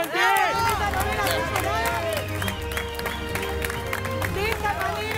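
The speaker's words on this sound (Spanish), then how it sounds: "les pido que extendamos el aplauso para el campeón de los campeones" Studio audience applause and cheering for the champion of a televised cooking contest, lively clapping mixed with crowd hubbub and excited voices throughout.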